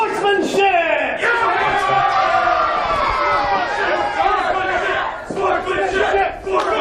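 A wrestling crowd roars and chants loudly together, a sustained collective yell with brief dips before surging again.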